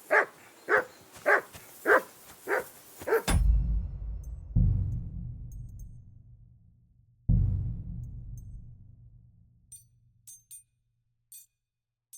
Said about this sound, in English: Jesus, Henry, that barking's driving me nuts. Can you get your dog to shut its beak